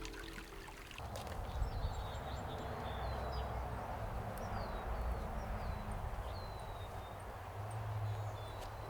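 A canyon creek in San Timoteo Canyon, California, flows with a steady broadband rush and trickle, birds chirping faintly above the continuous water noise.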